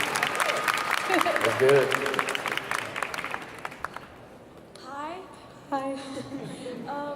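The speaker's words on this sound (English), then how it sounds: "Round of applause" An audience at a convention Q&A panel claps loudly for a few seconds, then the applause thins out and fades as a voice speaks briefly over the tail end.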